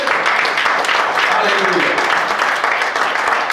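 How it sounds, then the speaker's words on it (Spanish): Church congregation applauding during a Spanish-language sermon, a dense steady burst of clapping close by, with a preacher's voice calling out over it. "Denle un aplauso al Señor."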